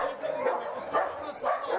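A golden retriever barks in a few short, rough bursts over a steady background hum.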